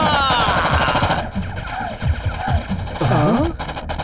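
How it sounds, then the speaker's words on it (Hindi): Rapid bursts of movie gunfire strafe a wall in a busy action scene, loud and continuous, mixed with voices and dramatic sound effects throughout. "भाई दीवार पर गोली क्यों चला रहे हैं?"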